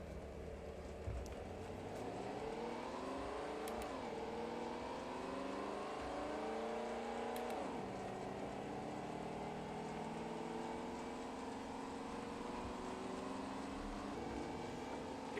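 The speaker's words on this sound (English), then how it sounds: "Acceleration is really not all that. In fact, it sounds and feels like it's misfiring." Car engine in the racing game Assetto Corsa, a spy-themed mod at Brands Hatch, accelerating with a rough, misfiring note: a steady loud drone rising in pitch through several gear changes, continuous and alone.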